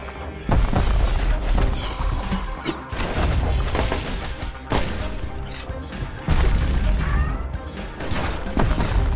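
In the video game Bastion, a musket fires like a shotgun, giving repeated loud booming blasts with crashing impacts and mechanical clatter at an irregular pace, alongside game effects and no talk.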